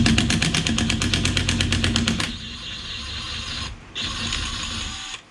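A DeWalt DCF899 cordless impact wrench hammers rapidly on a car wheel nut for about two seconds, a loud rattling burst that cuts off abruptly, followed by quieter mechanical whirring and background noise.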